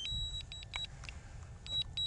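A string of short, high electronic beeps from a DJI Mavic Mini drone controller signalling return to home, repeating in quick rhythm, with a low rumbling hum underneath; no one speaks.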